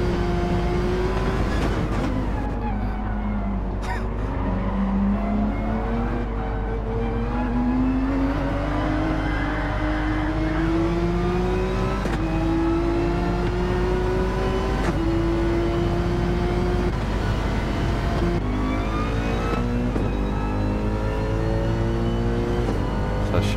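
A Mercedes race car engine in the video game Gran Turismo 7 on the Trial Mountain circuit, droning loudly and continuously as it climbs through the revs, shifts and rises again, with gear changes recurring across the run.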